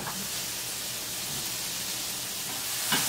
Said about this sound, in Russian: И коротко обжариваем.